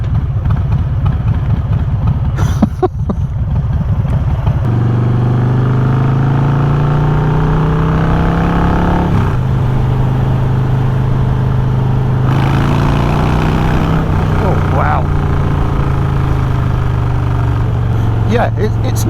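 A Harley-Davidson Fat Bob motorcycle engine runs loudly and continuously, its deep rumble rising and falling through several revs while someone talks over it.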